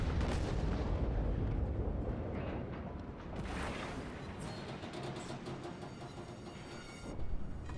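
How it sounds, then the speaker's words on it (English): Heavy battleship shells from a Wyoming-class battleship in a naval warship game burst all around an enemy ship: loud, dense rumbling booms and blasts that roll on continuously, with a renewed surge near the end. "Shells landing all around him."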